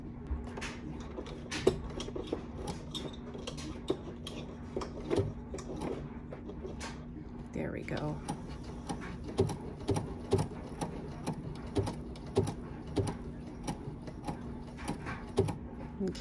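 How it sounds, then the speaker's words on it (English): A Bernina sewing machine's hand wheel is turned slowly by hand while sewing on a button with foot #18, giving soft, faint mechanical clicks and ticks at an uneven pace over a low steady hum. "I always use my hand wheel to test"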